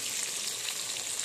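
Jackfruit pieces fry in hot oil left from browning, giving a steady close hissing sizzle with fine crackles throughout, no voices over it.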